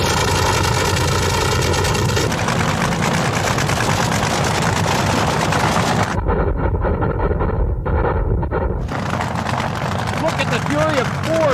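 A 4,000-horsepower nitro-fuel dragster idles toward the starting line, its loud, dense, continuous engine rumble filling the space up close, with the upper roar briefly thinning in the middle before returning at full force.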